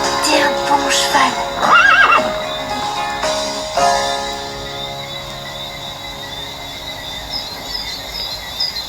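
A startled horse on a ranch gives a loud, wavering neigh that rises and falls, with faint insect chirping and a few distant hoof sounds around it.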